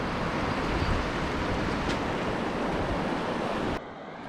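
Broad, steady rush of turbulent water from river rapids on the Clearwater River, a continuous roar that runs evenly for several seconds before dropping off abruptly near the end, with no voices.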